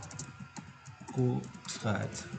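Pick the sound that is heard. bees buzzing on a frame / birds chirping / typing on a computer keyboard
typing on a computer keyboard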